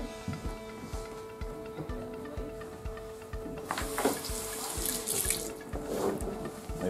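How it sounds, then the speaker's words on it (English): Tap water runs steadily into a sink as hands are washed, a continuous close splashing stream with louder bursts of spatter midway, no talking. "I gotta wash your hands"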